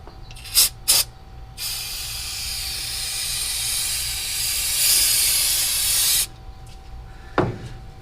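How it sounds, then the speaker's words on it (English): Aerosol parts cleaner sprayed onto a truck engine surface, a steady hissing jet lasting about five seconds, close up, with a few sharp clicks and taps before and after. "Cleaned it up with some parts cleaner just so that coolant's really oily."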